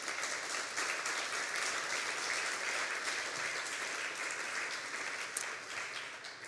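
Steady, fairly quiet applause from the audience at a poetry reading fills the room continuously, a dense patter of many hands that tapers slightly at the end.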